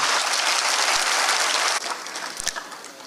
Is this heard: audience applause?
yes